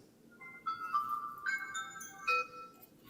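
A phone ringtone plays a bright electronic melody of stepped tones rising and shifting over about three seconds, clear and moderately close in an otherwise quiet room, with no talking.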